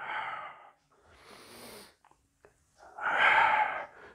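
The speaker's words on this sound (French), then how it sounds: "Et j'expire." Breath during a Pilates exercise, several airy breaths close up, a shorter one at the start, a softer one, then a long forceful exhale near the end, separated by brief quiet pauses.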